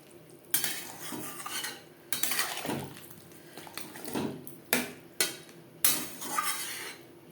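A metal utensil stirs pabda fish curry with potatoes and aubergine in a pan, giving repeated close scraping strokes and sharp clinks against the metal in an uneven rhythm, with no voices.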